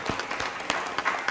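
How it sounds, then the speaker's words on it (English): Brief burst of audience applause at a city council meeting, scattered claps close together and moderately quiet, fading within a second or two. "let's go ahead and applaud him"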